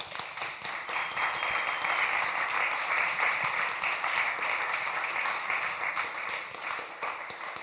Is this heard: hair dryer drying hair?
no